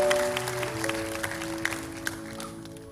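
Scattered, fairly faint clapping from a church congregation at a worship service, with sharper individual claps standing out over sustained musical tones that hold underneath throughout.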